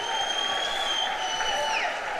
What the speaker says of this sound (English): Clapping him in.